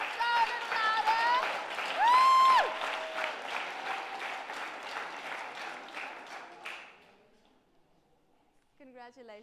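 Louder audience applause for a school team at a reading competition award ceremony, dense clapping with a voice over it for several seconds before fading away near the end.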